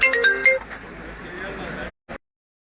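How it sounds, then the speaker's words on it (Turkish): A telephone rings during a local news broadcast, a short electronic ringtone burst under someone talking, then cut off, followed by a brief clink. "Telefon çalıyor bu arada."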